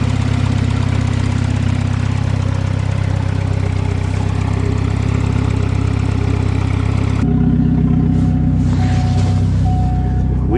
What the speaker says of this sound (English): Oh, what a lovely turbo.